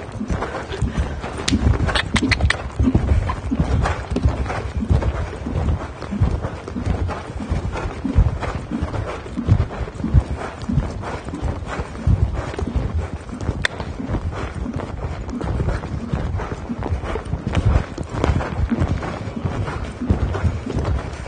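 Hooves of a young horse in a dressage session thud and clip-clop in a steady, rhythmic gait across the arena, continuous and fairly close, with light background rumble and no clear talking.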